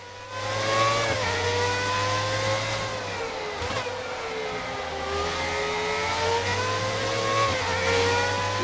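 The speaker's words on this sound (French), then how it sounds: "Deuxième Lotus qui passe." Lotus race cars in the F1 2019 video game roar past with a loud, continuous engine note, the pitch rising and dropping through gear shifts, with no one talking.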